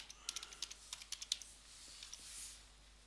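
A quick burst of about a dozen close, crisp keystrokes on a computer keyboard as a password is typed, then a short pause with faint room hiss; quiet overall and without talking.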